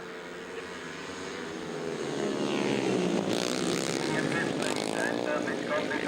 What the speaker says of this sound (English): Revs rising, and here they come.